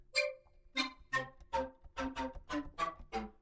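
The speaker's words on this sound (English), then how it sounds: "let's put some like horns or something in the background" A synthesizer horn preset plays a run of short brassy notes, about eight punchy stabs in an uneven rhythm, loud and close with brief gaps between them.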